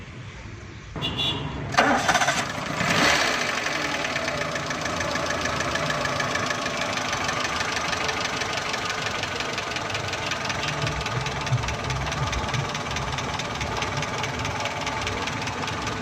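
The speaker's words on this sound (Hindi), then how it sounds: "टाइट करने के बाद गाड़ी को सलफ लगाना है।" A CNG-running car engine cranks and catches after a couple of clicks, then settles into a steady, slightly knocking idle that runs on close by.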